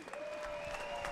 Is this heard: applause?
yes